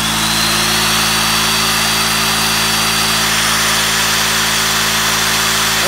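An electric drill powered from a homemade fuelless generator and inverter setup runs continuously, a loud, even motor whine with a steady low hum beneath, no pauses.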